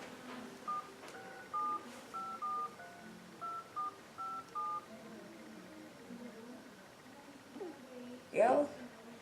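A telephone dials out in a run of about ten short, evenly spaced touch-tone beeps, moderately close and clean, followed by a brief pause and a louder click or rustle near the end, with faint talk in the background.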